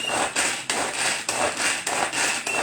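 Beetroot being chopped with a knife on a board, a steady run of sharp, close cutting strokes repeating about every half second with no talk.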